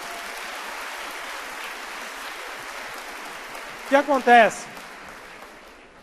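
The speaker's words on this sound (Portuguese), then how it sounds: "aplauda sim a Deus." Congregation applause at a church service, a steady wash of clapping running under the speech, with a brief spoken phrase near the end as it fades.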